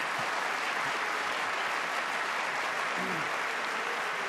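Sustained applause from a studio audience at a Dutch television quiz show, a dense, even clatter of clapping that holds at steady loudness throughout.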